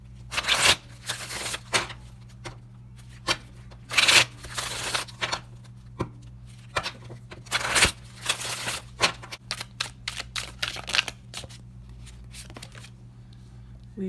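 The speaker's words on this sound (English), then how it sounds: "let's shuffle you up and see what we're packing for summer" A tarot deck is shuffled by hand in repeated quick riffles and slides, sharp papery bursts separated by short gaps, close up and clear against a low background hum.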